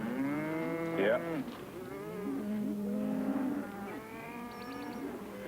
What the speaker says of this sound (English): Your cattle?